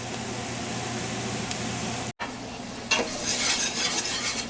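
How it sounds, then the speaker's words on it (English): Flour browning in a pot for shrimp bisque, stirred continuously with a steady soft sizzle and scraping, a brief pause midway, then brighter, louder sizzling as stirring resumes. "We are letting the flour brown a little bit."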